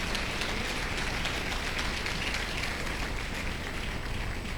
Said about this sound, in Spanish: Dale ese aplauso al Señor, vamos, dale